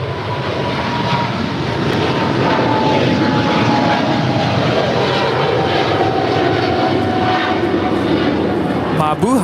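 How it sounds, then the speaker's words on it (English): A Philippine Airlines Boeing 777-300ER rolls for takeoff on runway 25 right at LAX, its jet engines a loud, sustained roar that holds steady throughout, with talking over it. "So Philippine Airlines is now rolling on 25 right."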